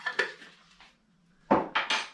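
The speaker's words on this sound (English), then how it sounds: "Give that a stir." A spoon stirs butternut squash soup in a pot, making a few light scrapes and clinks, then three sharper knocks against the pot near the end.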